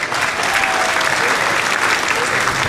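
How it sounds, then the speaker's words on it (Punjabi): A crowd at a Punjabi comedy stage show applauds for the performer Munna. The clapping is loud, dense and sustained, with no voice over it. "ਪਹਿਲਾਂ ਜੀ ਮੁੰਨੇ ਲਈ ਤਾਲੀ ਹੋਣੀ ਚਾਹੀਦੀ"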